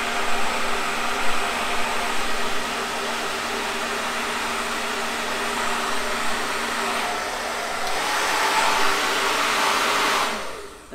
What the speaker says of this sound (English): on low speed, it still is a pretty intense speed for the diffuser